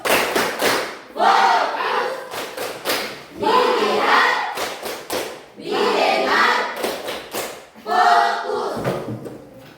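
A classroom group claps the rhythmic 'tepuk fokus' pattern together, sharp hand claps in repeated bursts with chanting voices between them, loud and close.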